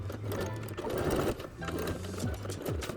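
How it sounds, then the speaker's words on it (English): Sewing machine slowly stitching through bulky leather on a bag, a close, uneven mechanical chatter with rhythmic needle thumps and small speed changes throughout. "I definitely sewed really slow through all of the bulky parts so I don't break a needle or break thread"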